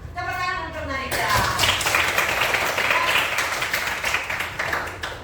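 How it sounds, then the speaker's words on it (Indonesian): A classroom of children breaks into lively clapping for a student, starting after a teacher's short spoken line and continuing as dense, close, fairly loud applause with scattered sharp claps to the end. "Tepuk tangan untuk Nadita."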